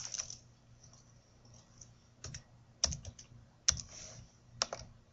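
Typing on a computer keyboard during sign-making software training, a steady patter of light key clicks with several sharper, louder strokes standing out, close and alone with no talk.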